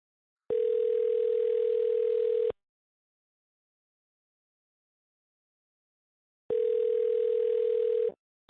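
A telephone ringback tone plays while calling a car dealer: two clear, steady two-second rings separated by a long silence, with a third ring just starting at the end.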